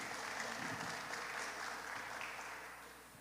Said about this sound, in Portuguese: É isso, palmas de novo.